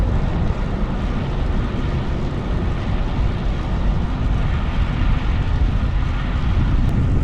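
Steady, loud wind buffeting a microphone while riding a road bike on SuperTeam carbon wheels into a light, non-gusty headwind; a continuous low roar fills the whole stretch with no talking.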